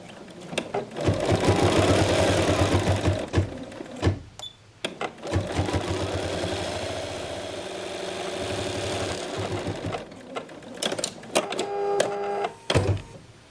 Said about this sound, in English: And now we will stitch this in place.